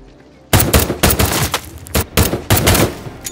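Bursts of loud gunfire, rapid repeated shots in several volleys with brief pauses between them, close and sharp.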